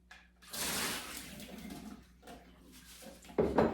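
Rinsed beans drain in a strainer over a sink, a steady close watery rush that fades to a trickle, then a louder clatter near the end.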